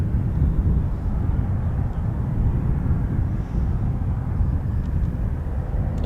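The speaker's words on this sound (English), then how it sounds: "I can just see an MC-130J." An MC-130J turboprop flying near RAF Mildenhall gives a continuous low droning roar that holds steady throughout, fairly loud with no speech over it.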